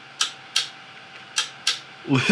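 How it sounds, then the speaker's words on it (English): Four sharp mechanical clicks from a cheap LED retrofit headlight projector's shutter solenoid switching high beams, close and evenly spaced in pairs, followed by a brief rustle at the end. "It uses a shutter, and it's a chonky solenoid"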